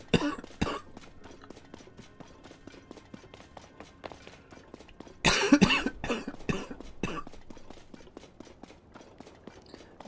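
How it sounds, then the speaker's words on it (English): A person coughs during a Tears of the Kingdom gaming stream, with two short coughs at the start and then a loud, close burst of several harsh coughs in the middle, followed by quieter rustling. "As always, I do apologize for the coughing."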